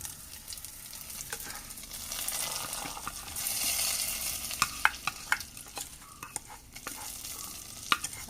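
Hot tempering poured into Kerala-style chickpea curry and stirred, a steady soft sizzle with scattered sharp clinks and scrapes of a spoon against the pot, close and moderately quiet, no voices.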